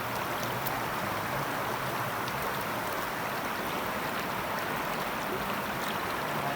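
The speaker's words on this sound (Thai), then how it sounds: "น้ำไหลด้วย" A stream flows in the countryside where people are out cast-net fishing, producing a continuous dense rushing wash that stays loud and steady throughout, with no voices.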